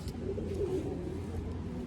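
Pigeons from a flying loft coo softly and steadily in low murmuring tones, with faint background noise and no talk.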